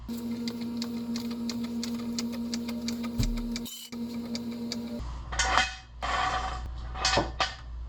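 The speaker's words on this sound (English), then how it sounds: "It's a Pittsburgh heavy-duty 3-ton low-profile jack." A Pittsburgh heavy-duty 3-ton low-profile jack is worked under a Ford Focus, giving rapid rhythmic clicking and ratcheting over a low hum, then a break and a few louder scraping clanks.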